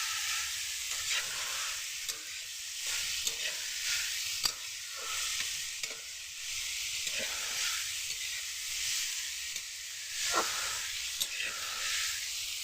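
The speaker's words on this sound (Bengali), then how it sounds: "এই দেখুন, ভালো করে এবারে মিশিয়ে নিচ্ছি" Vegetarian cabbage curry sizzles in a frying pan as it is stirred with spices, a steady close hiss broken by irregular scraping stirs and soft clicks of the spoon; no talk during it.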